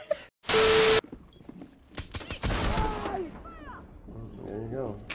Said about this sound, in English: Did you guys shotgun each other?